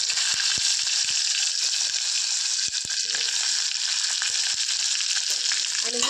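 Hot oil with cumin and mustard seeds fries for stuffed eggplant, giving a loud, steady close-up sizzle broken by sharp crackling pops.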